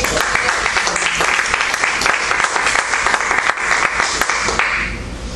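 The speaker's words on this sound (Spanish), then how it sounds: "Denle un aplauso a Dios." A church congregation breaks into lively applause during a Spanish-language sermon, with thick overlapping claps that hold steady and then taper off near the end.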